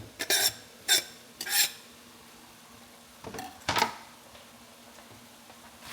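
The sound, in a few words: whole onion added to pan and stirred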